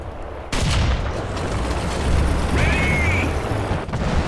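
A tank shell strikes with a sudden heavy impact in War Thunder, followed by a sustained rumbling roar and a brief whistling tone from the battle.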